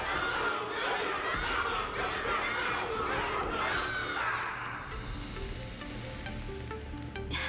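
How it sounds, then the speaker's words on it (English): A dense crowd roars and cheers at a Wardance battle event in the video game Honkai Star Rail, loud and continuous, then fades into softer background murmur. "Can't you hear? Everyone's cheering for you,"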